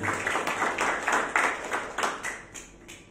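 Congregation in an Indonesian church clapping for God, a short run of rhythmic, fairly evenly spaced claps, moderately faint and without talk.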